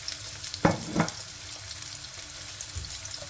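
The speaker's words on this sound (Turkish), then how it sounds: "Şöyle köftelerimi tencereme kızartmak için alıyorum" A steady crackling sizzle of meatballs frying in hot oil in a pot, with a couple of soft clunks as pieces are placed in.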